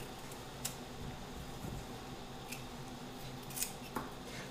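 Knife cutting thin-skinned cruciferous vegetables during holiday side-dish prep, giving a steady soft hiss of board and kitchen noise with a few sharp snips and taps spaced across the clip.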